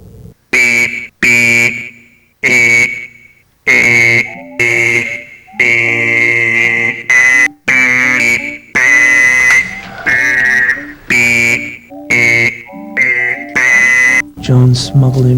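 A harsh electric buzzer sounds in long, repeated bursts of uneven length, loud and insistent with short gaps, and voices can be heard underneath.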